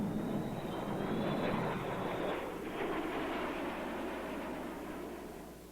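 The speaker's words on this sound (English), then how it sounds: "The B-52." A B-52 bomber roars overhead in a steady, broad engine rumble with a faint high whine, moderately distant, in old archival-style sound with no talk.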